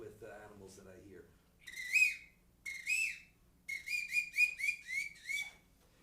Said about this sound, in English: You may be familiar with the ocarina sound. But I use this to call pigeons and doves.